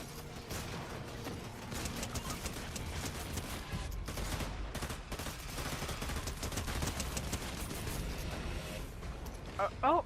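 Rapid video game gunshots rattle in a dense, fairly continuous fusillade with machine-gun-like bursts, heard under a speaking voice.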